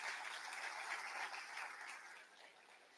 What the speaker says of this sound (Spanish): Dale fuerte ese aplauso a Jesús.